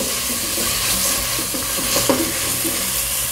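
Bacon sizzles in a pan with tomato and onion for Peruvian beef seco, a close, steady frying hiss broken by brief scraping stirs.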